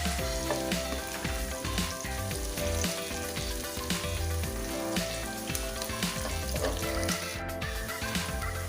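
Green chillies fry and sizzle steadily in a pan for ridge gourd (tori) sabzi, a dense continuous crackle that stays even and fairly loud throughout, with no voices.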